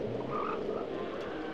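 Frog enemy in Secret of Evermore croaking, a short low rasping croak over a steady background hum, with no talk.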